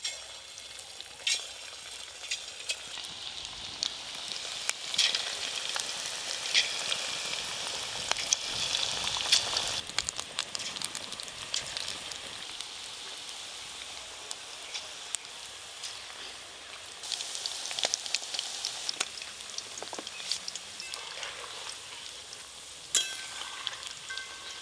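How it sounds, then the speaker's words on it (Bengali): Chicken pakoras deep-frying in plenty of hot white oil in a wok, a continuous crackling sizzle with irregular pops and bursts, close and steady throughout with occasional stirring sounds. "কড়াতে একটু বেশি করে সাদা তেল দেব সাদা তেল তেল খুব ভালো করে গরম হয়ে গেছে চিকেন পকোড়াগুলো ভেজে নেব"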